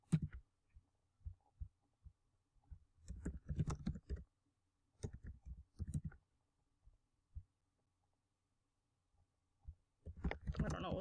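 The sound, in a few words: typing a keyword on a computer keyboard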